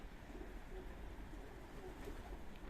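Pigeons at a Warsaw parking lot cooing softly in low, faint murmurs under a steady background hum, continuous and unobtrusive.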